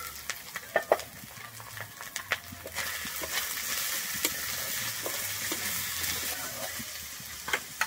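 Finely chopped onion with green chilli frying in oil in a pan, a steady close sizzle broken by scattered clinks and stirring scrapes.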